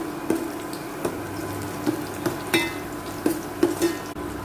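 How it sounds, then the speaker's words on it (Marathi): Garlic sautéing in a pan for a Marathi jitada fish curry, with a steady low sizzle broken by several sharp scraping stir strokes of a spoon against the pan, close and moderately loud, without speech. "लसूण आपलं चांगला परतून घेऊया."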